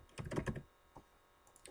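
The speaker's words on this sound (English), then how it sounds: "up here we're going to type in Creature" Quick typing on a computer keyboard, a short burst of clustered key clicks followed by a few isolated taps, close and fairly quiet.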